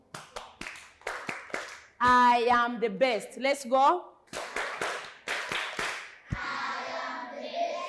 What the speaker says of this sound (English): You're going to clap hands for yourselves.